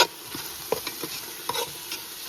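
Masala for Arabic chicken madhooth frying in a pan while it is stirred, a low steady sizzle with several light scraping strokes of a spoon, near and without voices.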